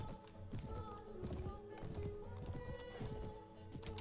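A horse in the Mount&Blade Warband game clops along steadily in a city, hoof taps repeating in an even rhythm under faint ambient noise.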